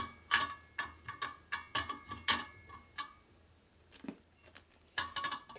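Sharp metallic clicks and ratcheting ticks from a spoke wrench turning nipples on a motorcycle wheel, worked on a 1957 Harley panhead drag bike; a dozen or so close, irregular clicks in short bursts with brief pauses between.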